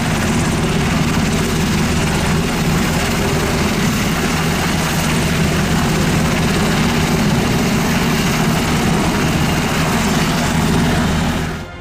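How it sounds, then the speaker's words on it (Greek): A coast guard helicopter in flight during a night sea rescue: steady, loud rotor and engine drone holds continuously without a break and cuts off abruptly at the end, with no voices. "επιστρατεύεται ελικόπτερο του λιμενικού και ξεκινά από αέρος η επιχείρηση διάσωσής τους."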